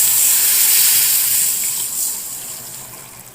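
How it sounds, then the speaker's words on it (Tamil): Water is poured into a cooking pan of sautéed tomato and onion before Maggi noodles go in, a steady close hissing splash that eases slightly toward the end. "தேவையான அளவு தண்ணி ஊற்றிக்கிறேன்."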